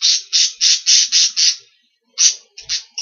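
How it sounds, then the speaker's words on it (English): A bird gives a loud run of six evenly spaced harsh squawks close by, then after a pause adds a few more sharp calls. "Shut up, birds."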